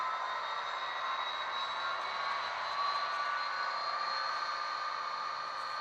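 An HO scale Rapido F40PH model locomotive's sound decoder playing its running diesel engine, a steady, fairly quiet hum and whine that holds even for several seconds with no talk.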